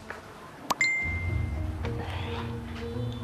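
A phone gives one short, bright notification ding for an incoming customer message. Fainter, thin tones and a low room rumble follow, and there are no voices.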